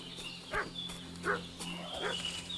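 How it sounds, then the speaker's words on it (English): Distant dog barking in the medieval open-world game Kingdom Come: Deliverance II, three short barks spaced apart over a steady outdoor ambience with faint birdsong, no talk. "What's that dog making such a fuss about?"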